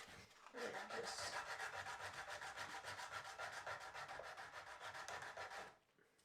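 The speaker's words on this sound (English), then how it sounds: "So I'm using here a 120 grit sandpaper." Rapid back-and-forth strokes of 120 grit sandpaper rub over wood for several seconds in a steady rasping rhythm, close by and alone, before stopping abruptly.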